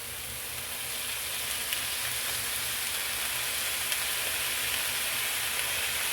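Soy sauce sizzles on shrimp fried rice in a hot pan, producing a steady, broad hiss that holds constant throughout without pauses.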